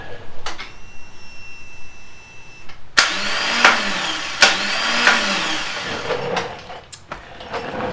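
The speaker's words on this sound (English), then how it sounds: "The starter clutch has been going a little bit. It's been catching and making all kinds of racket." Harley-Davidson motorcycle with a failing starter clutch, cranking in several harsh bursts that catch and rattle loudly, close up with uneven mechanical clatter between attempts and no talking.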